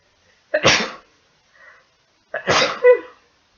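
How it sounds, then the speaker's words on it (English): Two sharp sneezes, one after the other, each a loud burst followed by quiet, with a faint breath between them. "I'm about to sneeze"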